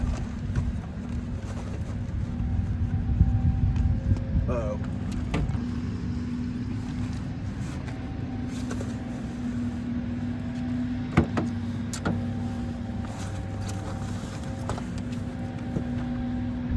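A car drives along steadily, a low engine drone and road rumble heard from inside the cabin, with a few faint clicks and knocks and no talking.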